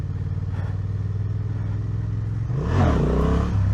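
Honda Transalp 750 motorcycle engine held at a steady close drone, then revved harder near the end as the rider tries a wheelie, with a rising, rougher roar.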